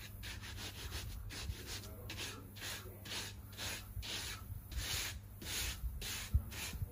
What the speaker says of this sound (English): And I'll try to trowel a bit more today,